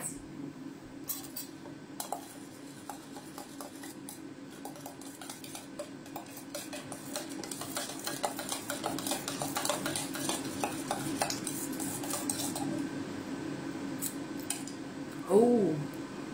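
A sauce of soy sauce and ketchup being stirred in a bowl for a Hawaiian poke bowl, heard as a continuous soft scraping and clinking of a utensil, steady and quiet throughout with a brief louder knock near the end.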